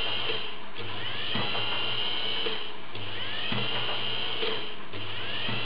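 A 12-volt windscreen wiper motor whirs steadily in a loud electric drone, with repeated braking moments every second or so that shift the hum's pitch before it spins back up.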